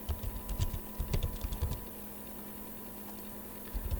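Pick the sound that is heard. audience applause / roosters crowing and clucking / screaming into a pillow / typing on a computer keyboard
typing on a computer keyboard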